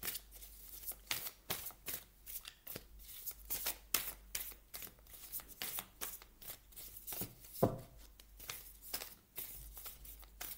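Oracle cards are shuffled by hand in quick, quiet bursts of riffling and flicking, close up with no talking.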